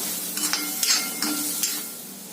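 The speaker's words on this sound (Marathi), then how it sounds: "आता त्यामध्येच आपण ओलं खोबरं सुद्धा घालूया. ते पण अर्धा मिनिट परतून घ्यायचंय आपल्याला." Fresh grated coconut sautéing in a pan for a Malvani-style bitter gourd dish, a steady soft sizzle under a few brief spoon scrapes and stirs, close and moderately quiet, with no talking.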